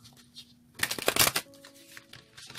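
A deck of cards gets a single quick riffle shuffle up close, a short crisp burst of fluttering snaps between quiet handling sounds.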